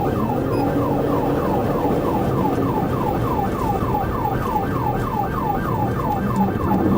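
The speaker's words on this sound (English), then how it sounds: "Pepitone initiated emergency lights and sirens." A police car siren wails in a steady, rapidly repeating yelp pattern during a highway pursuit on Interstate 10 eastbound, loud and continuous over a dense layer of road and engine rumble.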